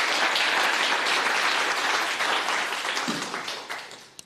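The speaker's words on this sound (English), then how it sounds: "please get a round of applause for Owen." Audience applause following a business talk on starting, scaling and exiting a company: dense, steady clapping from a roomful of people that holds strong and then slowly fades at the end.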